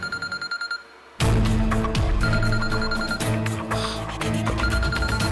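A telephone bell rings in short repeated bursts at the start, then a burst of loud music or dramatic drama score swells over and continues under it, fairly near and prominent.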